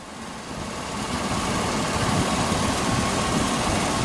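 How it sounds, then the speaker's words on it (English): A 2002 Dodge Ram B3500 Maxi passenger van, started with a jump starter, settles into a rough idle, its engine rumble swelling within the first second or so and then holding steady and close. "The vehicle starts with a jump starter."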